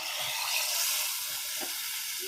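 Steady, bright sizzling hiss of hot tempering poured into tomato rasam, continuous and fairly close, with a few faint bubbling pops.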